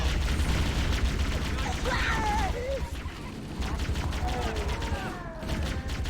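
Weapon fire in Halo: Combat Evolved, dense rapid bursts of gunfire and mechanical clatter over a constant loud backdrop of game action.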